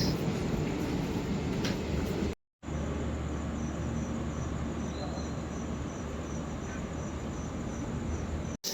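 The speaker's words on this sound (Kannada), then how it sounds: "ನಮ್ಮ ಬಸವ ಎಕ್ಸ್ಪ್ರೆಸ್ ಈಗ ರಾಯಚೂರಿಗೆ ಪ್ಲಾಟ್ಫಾರ್ಮ್ ನಂಬರ್ 2 ಬಂದಿದೆ." Basava Express, a Bagalkot to Mysuru passenger train, pulling into platform 2 at Raichur station: a steady rumble of rolling wagons and wheels at close range, continuous throughout, with a high insect-like whine riding above it.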